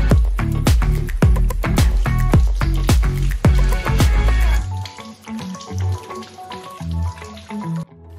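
Water runs from a tap into a sink during handwashing, a steady splashing stream that stops partway through, leaving quieter dripping and handling sounds.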